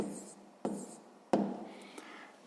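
Pen strokes scratching on paper as a fifth-grade maths multiplication is written out by hand, with three short scraping bursts and quieter writing between them, close by and alone.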